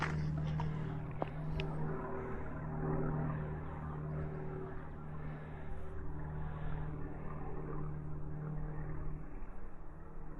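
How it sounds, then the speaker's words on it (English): An older propeller airplane drones overhead as a steady, moderately loud hum that lingers without fading over a quiet outdoor hike on a gulch trail. "I think that's an older airplane."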